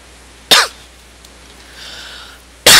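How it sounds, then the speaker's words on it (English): A person coughs twice during a Minecraft gaming session, each a loud, sharp burst close to the mic, separated by about two seconds of quiet room tone. "Coughing all over the place and whatnot."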